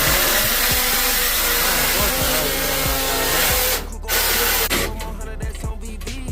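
A reciprocating saw cuts through the metal of an old lowboy oil furnace being torn out, a steady loud rasping buzz that pauses briefly partway through and then resumes in shorter bursts.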